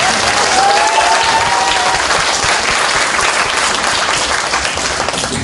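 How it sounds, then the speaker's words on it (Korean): An audience at a public broadcast event in Busan breaks into dense, sustained applause, many hands clapping steadily and close by throughout. "박수 한번 쳐요, 이럴 때."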